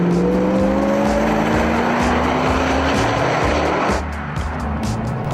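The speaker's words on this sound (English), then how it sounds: "It does accelerate amazingly well." A car accelerates hard, its engine note rising steadily in pitch as a loud, close roar with a rough throbbing undertone, then dropping slightly in level near the end, with no talk.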